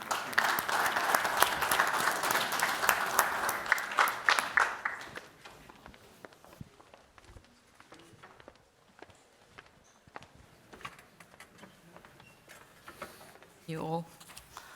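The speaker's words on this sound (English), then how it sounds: "Please welcome them with an applause." Audience applause welcomes a panel of startup and corporate venture capital speakers onto the stage at a European tech investment event: loud, dense clapping for about five seconds, then dying away into quieter room noise with scattered knocks and movement.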